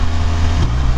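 BMW R1200RT motorcycle engine running steadily through a quick shift, a loud close low rumble with a brief change in tone midway through the one-second burst.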